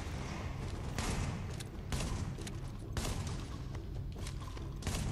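Distant gunfire in the video game The Division: a steady wash of rapid shots and crackle, with a few sharper cracks and thumps standing out through the whole passage.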